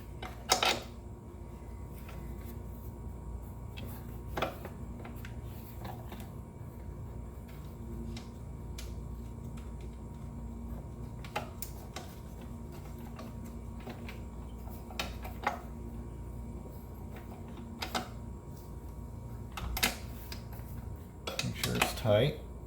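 A 1/2 inch socket tightens a bolt on a Toro TimeMaster 30-inch mower bracket, giving scattered faint metallic clicks and clinks over a quiet background, with a quicker cluster of ticks near the end.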